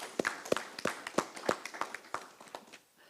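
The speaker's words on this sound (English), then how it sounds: "a round of applause, please." A small group claps at a council meeting, a brief round of regular, fairly close claps that tapers off within a few seconds.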